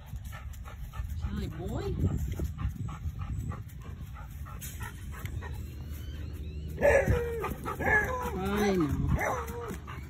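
Beagles bark and whimper near a person who talks over them, with yips and whines scattered through, some close and some further off.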